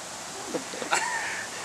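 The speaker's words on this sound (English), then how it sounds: "Sounds like a crow." A crow caws once or twice, faint and a little distant, over steady background noise.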